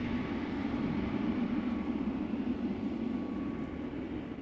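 An Embraer E2 jet arriving at Amsterdam Schiphol Airport, a steady low engine roar heard from a distance with no talk.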